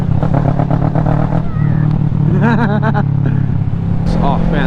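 A Kawasaki Ninja 650 motorcycle on the road, its engine droning loud and close with rising revs and pitch sweeps, while a rider's voice and wind noise mix in.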